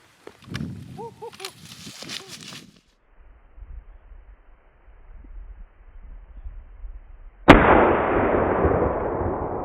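A single loud rifle crack from a 6.5 PRC fired at a deer at 540 yards bursts in sharply and rolls into a long sustained echo, after earlier murmuring voices and a quiet outdoor stretch.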